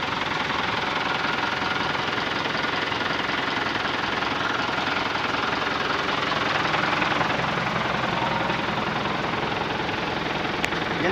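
Mitsubishi 4M51 diesel engine idling steadily after repair, a loud continuous low rumble with a knocking clatter running evenly throughout, no voices.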